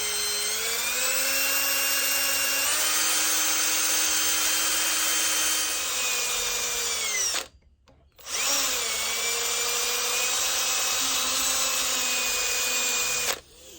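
A power drill cutting a 1/8 inch hole through the plow spring steel tang of a bowie knife, a loud, steady whirring whine in two long runs separated by a brief pause, pitch sagging slightly under load.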